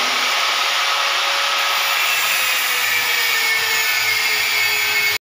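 A power tool cuts a metal piece for a window grill, a loud continuous high whine that holds steady for about five seconds, then stops abruptly.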